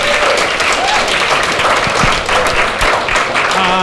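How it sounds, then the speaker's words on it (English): A comedy show audience claps and applauds steadily throughout, a dense wash of clapping with faint voices mixed in. "Please, a big round of applause"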